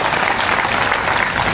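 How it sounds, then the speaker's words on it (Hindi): Audience applause for Santlal Rawat at a political booth-presidents' rally in Mohanlalganj, a dense, steady clapping from a crowd filling the whole moment without a break. "ताली बजाओ भाई संतलाल रावत जी के लिए।"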